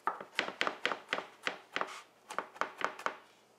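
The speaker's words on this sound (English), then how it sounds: "Chop up this garlic clove so it's finely minced." A knife chops and minces a garlic clove on a board, about fifteen sharp, close knocks in an uneven, quick rhythm with no talking.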